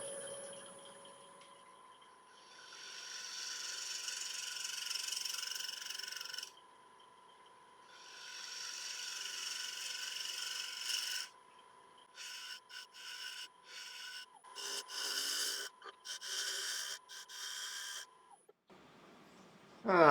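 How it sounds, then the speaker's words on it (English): Bowl gouge working a rotting log on a wood lathe, producing long sustained scraping, rasping passes that come in bursts, with a steady motor hum underneath and shorter choppy cuts toward the end. "So I'll start off with a 3/8 inch bore gouge."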